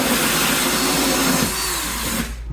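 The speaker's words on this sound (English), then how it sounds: "Ooh, gotta hold onto the drill there." A power drill bores through sheetrock during a mini-split indoor unit installation, a loud, steady whirring grind that shifts pitch midway as the bit bites, then cuts off near the end.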